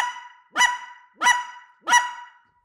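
A goose call blown to imitate a lesser goose gives three sharp, evenly spaced honks, loud and close with nothing else heard.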